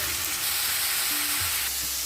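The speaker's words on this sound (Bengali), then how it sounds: "ভালো করে এটা ভাজা হোক" Chow mein being stir-fried in a pan sizzles steadily and close by, a continuous frying hiss with light stirring scrapes, no voices.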